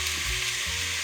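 Onions, celery and carrots frying together in a pan as the base for a beef and pork ragu for lasagne, giving a steady, close, loud sizzle with a few low stirring thumps and no talking.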